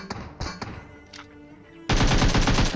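Rapid bursts of automatic gunfire in a PUBG Mobile match, loud and close, with a short lull before a dense sustained volley in the last second.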